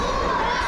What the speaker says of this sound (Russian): Ну и болельщиков это только разозлило. С трибун доносится уралец.